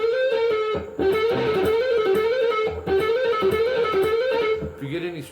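Distorted electric guitar plays a fast legato lick of hammer-ons and pull-offs from a solo, repeated about three times in a continuous, fluid run with no talking.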